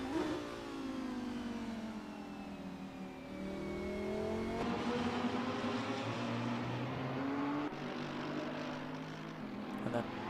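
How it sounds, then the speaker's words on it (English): A Lamborghini Huracan race car engine in a sim-racing game at the Hungaroring, with a loud, sustained rev that climbs and drops through gear changes as the car races with other cars. "that typical Lambo sound in the Huracan of Michal Makeš"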